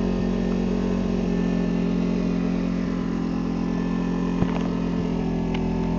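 A small generator runs steadily on a home-made ultralight airship gondola, giving a continuous close engine drone with a constant pitch and no pauses.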